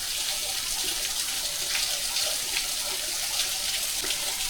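Water at Rylander Cascades, a wet-weather waterfall slowed to a thin trickle during a dry spell, gives a steady, soft, even hiss of flowing water with no pauses and no voices.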